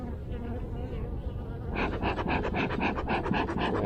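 Honeybees buzzing around an open hive during an inspection, a dense droning hum that swells into a louder, pulsing buzz of many bees close by, with no talk over it.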